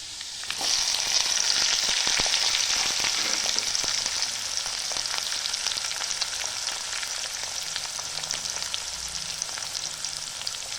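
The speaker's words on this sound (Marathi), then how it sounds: "कांद्याला पण चांगला लालसर येईपर्यंत तळून घ्यायचं" Chopped onion frying in hot oil with garlic for a potato bhaji, a steady dense sizzle close up that runs the whole time with faint scraping stirs and no voices.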